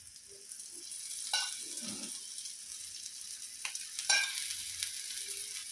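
A bottle gourd dhapate flatbread fries with oil in a pan: a constant hissing sizzle with a few brief spatula taps and scrapes, fairly quiet and without voices.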